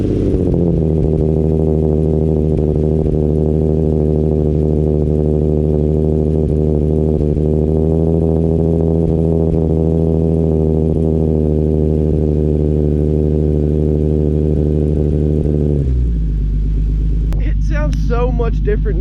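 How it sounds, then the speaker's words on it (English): A Hyundai Genesis Coupe 3.8 V6 with an ARK GRiP exhaust idles high and steady after a cold start, a loud droning rumble that drops in pitch near the end, followed by someone speaking briefly. "Let's see how a cold start sounds."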